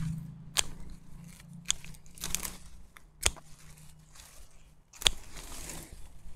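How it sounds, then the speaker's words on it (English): Sharp pruners snipping asparagus stalks at ground level outdoors, giving about five crisp, separate cuts spaced unevenly over a few seconds, each one short and close. "take a nice sharp pair of pruners at ground level, cut it off."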